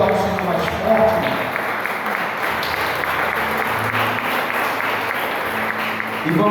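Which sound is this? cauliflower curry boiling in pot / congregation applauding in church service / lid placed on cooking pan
congregation applauding in church service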